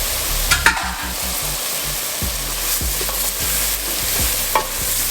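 Bell pepper stirred into a pot of chicken and sausage gumbo, with a loud, steady sizzle and a repeated rhythmic scraping and knocking of a spoon against the pot, close by and with no talk.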